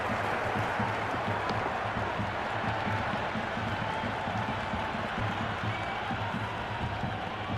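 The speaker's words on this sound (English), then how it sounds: "The crowd is electric right now." Virtual stadium crowd in the Cricket 26 video game during a Pakistan versus England match, applauding and cheering after a four is hit. The dense, steady roar of clapping and cheers stays loud and unbroken throughout.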